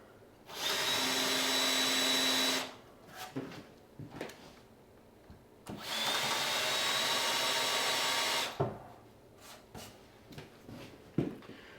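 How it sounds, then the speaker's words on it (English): A power drill countersinking screw holes in cedar, two sustained whirring bursts each lasting a couple of seconds, followed by faint handling clatter. "And we'll countersink these."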